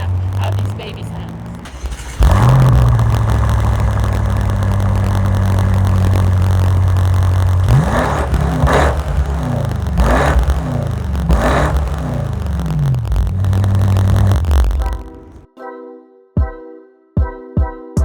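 A BMW M8 Competition Gran Coupe engine starts with a loud bark, settles into a deep idle, then is revved hard several times in rising surges before cutting off, followed by a few short sharp blips, heard close from behind the car.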